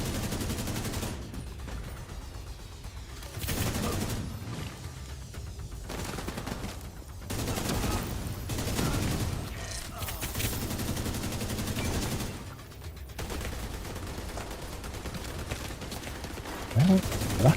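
Bursts of gunfire in the online shooter The Division 2 crack repeatedly in loud volleys separated by brief pauses, dense and continuous through the stretch.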